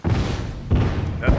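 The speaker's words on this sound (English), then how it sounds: "Bomb's armed, careful. Fire in the hole." A bomb blast in The Last of Us Remastered online play: a heavy low boom followed by rumbling thuds, close and loud, with a second impact near the end.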